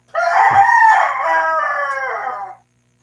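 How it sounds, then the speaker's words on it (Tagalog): A rooster crows loudly and close, one long drawn-out call lasting a couple of seconds, amid a farmyard flock of chickens. "daming manok"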